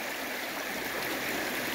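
River water rushing steadily over a gravel bar after heavy rain, a continuous broadband wash heard close and fairly loud with no pauses.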